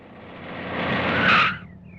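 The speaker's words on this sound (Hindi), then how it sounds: "ड्राइवर गाड़ी रोको।" A car skids to a halt with a rising tire squeal that peaks near the end and then cuts off. It sounds close and fairly loud, with no talking.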